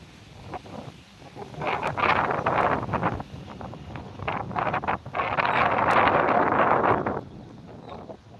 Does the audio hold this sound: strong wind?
yes